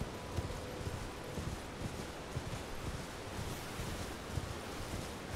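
Horse galloping through a storm in the video game Elden Ring, a steady dense wash of rain and wind with a faint rhythmic hoofbeat running underneath, no talking.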